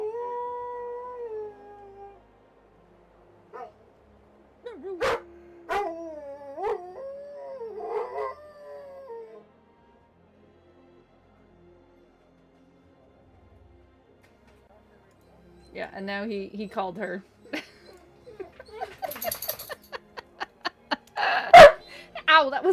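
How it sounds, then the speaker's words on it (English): A dog lets out a long rising howl, then a few sharp barks, with people talking and laughing between the outbursts and a loud bark near the end. "That was a big bark."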